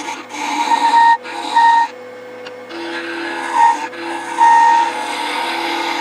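Small wooden hair stick spinning on a wood lathe, with a steady machine hum and repeated bursts of scraping and rasping as a tool is pressed to the thin workpiece, close and fairly loud.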